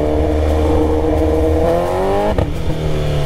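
A BMW S1000RR superbike revs hard up close, its engine note climbing in one sweeping rise, dipping sharply, then settling into a steady loud drone with no voices over it.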